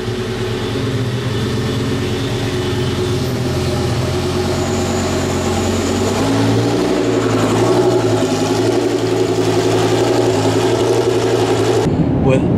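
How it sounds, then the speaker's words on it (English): An Audi R8 LMS GT race car's V10 engine runs steadily, with a low, dense rumble and shifting harmonics. Around the middle the pitch rises as it revs, and it cuts off abruptly near the end. "He fired up a R8 LMS GT car"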